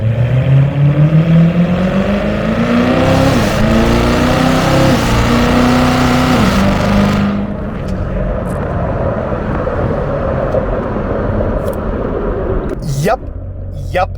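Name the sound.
Corvette Z06 engine accelerating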